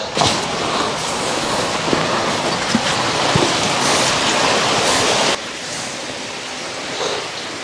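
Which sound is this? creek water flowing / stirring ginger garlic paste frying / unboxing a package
creek water flowing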